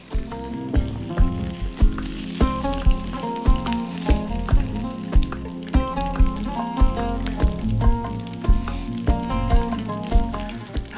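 Lamb shanks dipped in oil sizzle steadily in a hot pan for a dish from Riyadh, a continuous frying hiss with background music and rhythmic beats over it.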